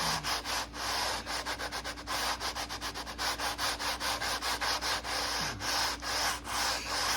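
Sandpaper rubs back and forth by hand across a wooden acoustic guitar top in quick, rhythmic strokes, close and steady, with a low background hum underneath.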